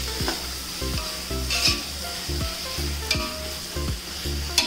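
Finely chopped tomatoes dropped into fried masala for chicken biryani crackle and sizzle loudly in the pan, with rhythmic scraping stirs and clanks of a spoon against the vessel repeating every half second.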